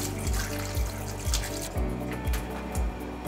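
Burdock root being rinsed in water in a home kitchen: a regular, rhythmic splashing and sloshing at close range, repeating about every half second, with no talk over it.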